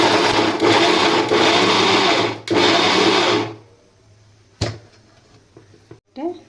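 A mixer grinder powdering ragi runs loud and steady at close range for a few seconds, then cuts off, leaving quieter handling clicks and a knock.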